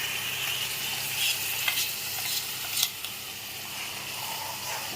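Onions, green chillies and curry leaves fry in a pan for an Andhra-style onion and drumstick curry, a steady close sizzle with occasional stirring clicks and no talking.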